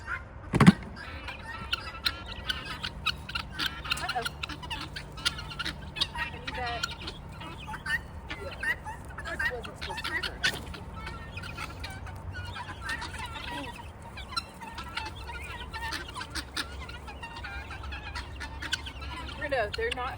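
A small flock of chickens clucks around at close range in scattered, overlapping calls, with a sharp louder squawk near the start and occasional speech beneath.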